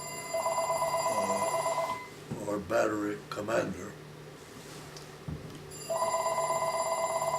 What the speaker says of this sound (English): We'll take a short break for the phone call.